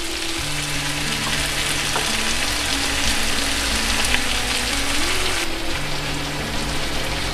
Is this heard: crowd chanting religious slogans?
no